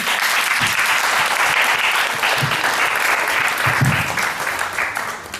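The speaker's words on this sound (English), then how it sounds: "let's give a round of applause for Mrs. August Courtney" An audience applauds a guest speaker at a talk on preventing child abuse, a steady, dense wash of clapping from a roomful of people that holds evenly for several seconds, with a few faint voices underneath.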